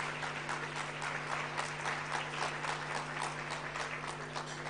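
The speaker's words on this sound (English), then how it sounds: "you can applaud them" An audience at a live prize event applauds two honored partners, a full, even wash of clapping that continues steadily at moderate volume over a constant low hum.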